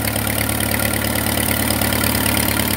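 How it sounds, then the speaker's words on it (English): A 1936 RC Case tractor engine idles at close range, a loud, steady mid-to-low rumble with an even chugging pulse and no pauses. "This was the neighbor's tractor."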